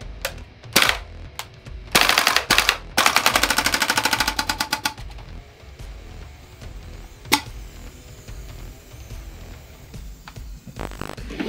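A gun fires in full auto, with a few single sharp shots followed by a long rapid burst of loud, evenly spaced reports, then one more isolated shot over quiet room tone.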